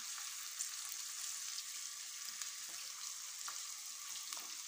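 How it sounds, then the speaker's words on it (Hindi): Chopped onions fry in hot oil in a pan while making chicken Manchurian, giving a steady, soft, even sizzling hiss with a few faint crackles. There is no talk. "इसी ऑयल के अंदर हम इसमें प्याज डाल देंगे।"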